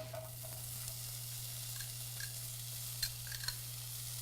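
Lentils with rosemary frying a second time in a pan make a soft, steady sizzle with faint stirring ticks and a few light pops. The sound stays quiet and even throughout, with no talking.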